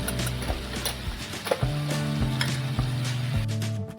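Garam masala and turmeric sautéed in a pan for a makli (squid) masala, a soft steady sizzle with intermittent scraping and stirring clatter of a utensil against the pan.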